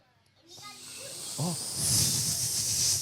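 Children's voices imitate a snake, building into a sustained breathy hiss that swells and holds after brief talk in a kindergarten classroom.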